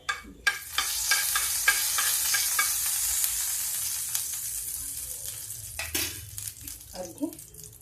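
Asafoetida sizzles in hot oil in a pan, a bright crackling hiss that starts sharply and slowly fades, with a few clinks of a spoon against the pan.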